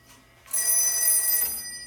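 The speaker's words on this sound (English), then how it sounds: "I dialed this number, and you can probably hear a ring back" A telephone ring-back tone after dialing, heard on old telephone equipment, a single bright electronic ringing burst of about one second following a quiet lead-in.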